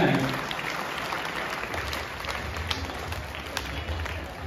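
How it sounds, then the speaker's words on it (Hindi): Applause from a college audience at a Children's Day competition prize announcement, a fairly faint wash of clapping that holds steady over several seconds alongside low background rumble. "तालियां हो जाएं"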